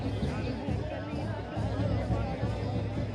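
A crowd gathers at BJP headquarters during the 2020 Bihar election result, making a dense, continuous murmur of many voices. A person talks clearly over the babble.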